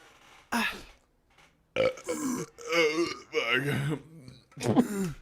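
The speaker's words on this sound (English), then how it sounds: "I'm trying to burp it out." A man burps loudly into a microphone on a live podcast, a single eruption followed by several more throaty, croaking bursts spread across a few seconds, close and dry.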